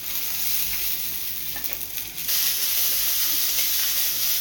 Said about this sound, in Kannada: ಚೆನ್ನಾಗಿ ಫ್ರೈ ಮಾಡಬೇಕಿದು.